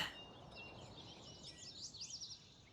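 Birds chirp and tweet in the countryside of Farming Simulator 19, a steady run of bright, fairly faint calls that grows busier toward the end, with no talk.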